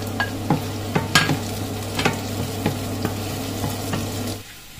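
Garlic and onions sautéing in olive oil with a steady sizzle, broken by about a dozen sharp clicks and scrapes of stirring, then the sizzle drops away abruptly near the end.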